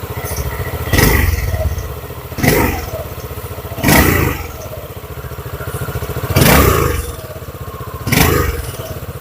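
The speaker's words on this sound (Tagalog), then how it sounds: "Sa inyo yung kanyang mismong actual exhaust sound." An FKM Venture ADV 150 Ultimate Edition, a 150cc single-cylinder motorcycle, idles with a close, throbbing exhaust, broken by five evenly spaced throttle blips that rise and fall about every one and a half seconds.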